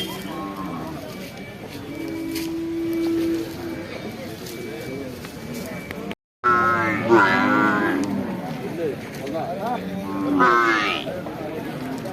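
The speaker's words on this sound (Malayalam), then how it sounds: "ജല്ലിക്കെട്ട് കാളാ" A jallikattu bull from Tamil Nadu lows in a long steady moo at the Kollannur cattle market, followed later by more bellowing cattle calls, with people talking and a busy outdoor crowd in the background.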